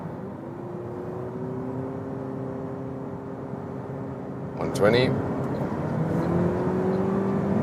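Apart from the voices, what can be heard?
Toyota Prius 2024 combustion engine accelerating in sport mode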